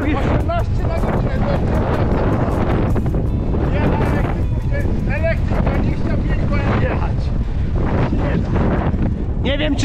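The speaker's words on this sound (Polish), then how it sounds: "Właśnie żeby nie było, dostaliśmy wiatru." Strong wind buffeting the microphone while cycling in the Netherlands, a constant loud roar under a voice talking throughout.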